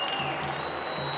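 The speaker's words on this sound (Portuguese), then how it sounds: "Muito aplaudido." Stadium crowd at a Ceará state championship football match applauding in tribute to Pelé, a steady broad wash of clapping from a large crowd, with a commentator's voice faintly under it.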